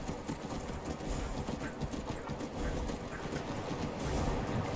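Steady clip-clop of horse hooves at a riding pace, mixed with a broad rushing wash of wind and travel noise, as a horse climbs uphill through wilderness in The Elder Scrolls V: Skyrim.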